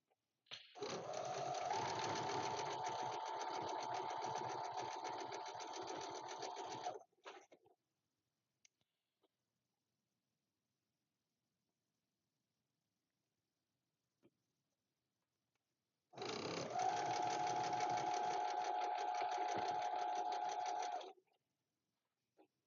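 A home sewing machine stitches Bargello quilt seams in two steady runs of fast, even whirring, each about five seconds long, separated by near silence with a few faint clicks.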